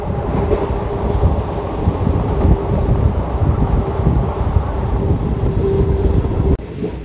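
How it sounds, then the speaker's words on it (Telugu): The Tirupati–Secunderabad Vande Bharat Express train rushes past with a continuous loud rumble and rattle of carriages on the track, steady throughout with a sharp drop near the end. "తిరుపతి సికింద్రాబాద్ వందే భారత్ ఎక్స్ప్రెస్."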